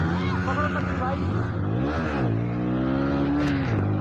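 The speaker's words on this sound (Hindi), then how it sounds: "चलो भाई यार अभी बाइक स्टार्ट हो चुकी है" A motorbike engine revs loudly and steadily at a Diwali night fair, its harmonic whine rising and falling through a couple of throttle swells, close to the microphone and continuous throughout.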